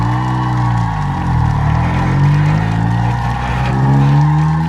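A lowered stance car moves through a slow turn on the road, its engine holding a steady, close rumble with a slight rise and fall in pitch throughout.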